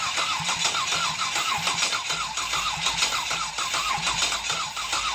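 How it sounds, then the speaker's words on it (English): An LS V8 engine mounted on a cheap Harbor Freight engine stand cranks over with a rapid, rhythmic chugging of the starter, loud and close, running continuously without catching. "So this is how you run an LS on a cheap-ass Harbor Freight engine stand"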